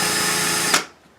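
A handheld power drill runs loud and steady at close range, then cuts off abruptly and falls silent near the end.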